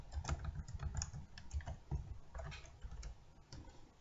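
Quiet, close typing on a computer keyboard: irregular bursts of soft key clicks with short pauses between them and no voices.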